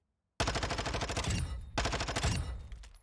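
A Vaznev-9K submachine gun fires in Warzone 2 in two long, loud automatic bursts of rapid, evenly spaced shots, each with a short tail that fades away.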